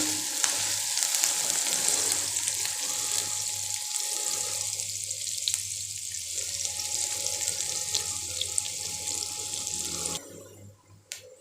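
Onions fry in a pan until lightly browned, giving a steady, close sizzle with occasional stirring scrapes, before the sound drops away abruptly near the end.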